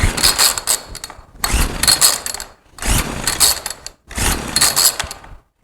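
An old chainsaw being pull-started without choke, with four separate bursts of rough, rasping starter-cord pulls and brief mechanical rattle, each lasting about a second with short gaps between, close and fairly loud, and no engine catching.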